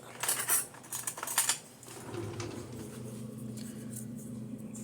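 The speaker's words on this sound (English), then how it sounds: "Go ahead and grab a fork." A metal fork picking up and poking into a homemade summer fruit cake, with quick bright clinks and scrapes against the dish at first, then a softer, steadier muffled rustle.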